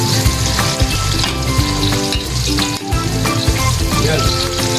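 Pampano fish sautés in a hot pan for sarsiado, crackling in a loud, dense sizzle with popping spatters and scraping stirs close by, no voices heard.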